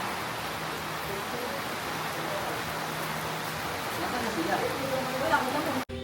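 Steady rain hisses across the whole stretch at an even level, with a voice talking faintly underneath and a brief dropout near the end.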